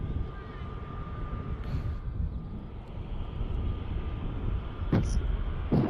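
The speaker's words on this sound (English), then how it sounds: "KLM A321 Neo. December 2024. That aircraft's age. Arriving in from Amsterdam." A KLM Airbus A321neo airliner arriving from Amsterdam at Manchester Airport passes as a distant, steady jet roar with a thin whine, rising slightly toward the end under wind and background noise.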